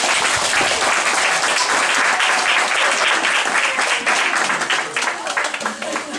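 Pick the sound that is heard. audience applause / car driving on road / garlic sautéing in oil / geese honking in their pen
audience applause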